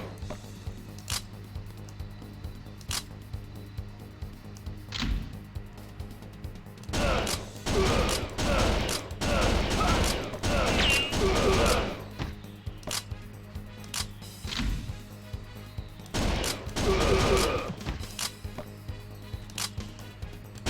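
Repeated gunfire from a House of the Dead style rail-shooter, fired at zombies in loud clustered volleys with short pauses between bursts, over a steady low electronic game hum.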